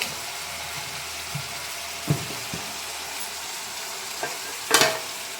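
Oil sizzling steadily as batter for uggani bajji fries in a pan, a low continuous crackle with a few sharper pops and bursts near the end.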